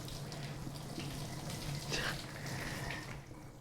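Hot water from boiled potatoes is poured off in a steady, continuous rush, a moderately close running-water wash with a brief stronger splash midway and no talk over it.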